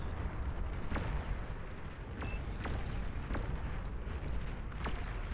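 Bomber explosions in the real-time strategy game Beyond All Reason, a continuous rumbling barrage of booms with sharp blasts recurring every second or so, steady and dense throughout.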